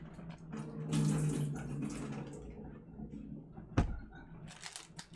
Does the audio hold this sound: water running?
yes